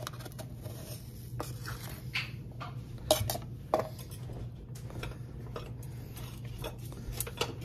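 A utensil taps and scrapes lightly against a bowl while flour and baking soda for dumplings are stirred, giving soft irregular clinks over a low steady hum.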